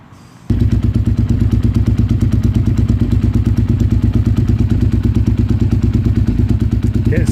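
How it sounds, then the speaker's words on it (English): A Suzuki SV650 motorcycle engine catches after a short quiet moment, then settles into a loud, close, lumpy idle with steady thumping pulses and slight rises in revs. "Just going to go ahead and start the bike up, put it back on, rev it up"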